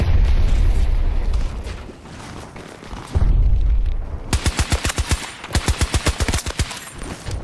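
Rapid bursts of Hanser gunfire in Battlefield 2042 crack out in quick rhythmic volleys, loud and close, following a heavy explosive boom and rumbling battle noise.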